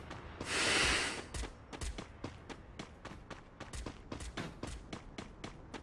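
Suppressed gunfire in a mobile shooter game, a long run of quiet, sharp pops spaced at a steady rapid rhythm after a brief loud rushing burst, with no voices over it.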